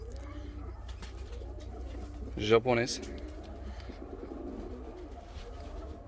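An ornamental costume pigeon gives one brief rolling coo partway through, amid a low steady background while someone speaks nearby.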